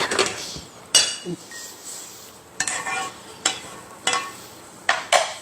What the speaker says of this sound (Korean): 이거는 이제 다 된 거니까 접시에 담아서 내드리겠습니다